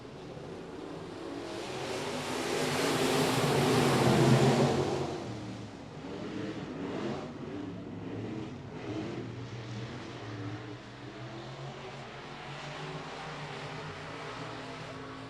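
Race cars roar past at I-37 Speedway during a DTK Memorial race night, a distant engine drone swelling as a pack passes, then fading back to a softer, steady rumble around the track.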